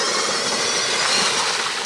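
Electric-converted 1/5 scale Primal RC water-cooled 80 lb 4x4 monster truck running with a steady, loud, dense motor and drivetrain whine that stays constant throughout.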